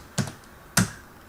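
Two short, crisp taps on a computer keyboard, spaced about half a second apart, close and clear against a quiet room.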